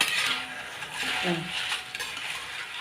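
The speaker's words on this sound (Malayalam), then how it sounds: "നല്ലപോലെ വറവായപ്പോൾ ഞാനത് വെളിച്ചെണ്ണയിൽ നിന്ന് മാറ്റുകയാണ് കേട്ടോ അരിപ്പയിലേക്ക് ഇങ്ങനെ മാറ്റുകയാണ്" Fried jackfruit chips lifted out of hot coconut oil into a metal strainer, with light metallic clinks and rustling over a steady low sizzle, close by.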